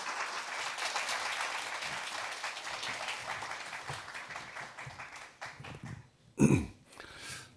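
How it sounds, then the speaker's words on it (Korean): A hall audience at a parliamentary policy forum on industrial accident insurance gives sustained applause as a speaker is welcomed to the podium. The clapping fades out, followed by a short thump and some faint rustling. "큰 박수와 함께 단상으로 모셔보겠습니다"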